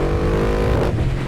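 A 2024 Yamaha R1 four-cylinder sport motorcycle engine revving hard on the road, a loud, close, sustained high-pitched roar that climbs and then drops off near the end.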